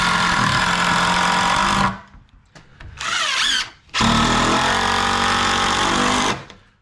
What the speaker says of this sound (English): we're going to screw a couple boards together here in a minute